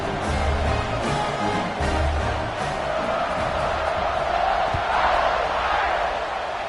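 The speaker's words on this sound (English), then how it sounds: "this crowd is feeling themselves after that last drive" Stadium crowd in a football video game roars steadily at a kickoff, a dense, continuous wall of cheering and chanting with a swell near the end, loud and close throughout.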